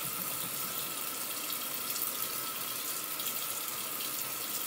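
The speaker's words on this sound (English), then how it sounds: "Once we rinse, we're gonna leave the water on because we're gonna need it." Steady rush of water running from a bathroom sink tap, continuous and fairly close, with no voices over it.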